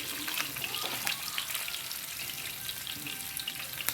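Curry leaves and chillies sizzle steadily in hot oil, a dense, crackling frying hiss that stays close and even throughout with no voices.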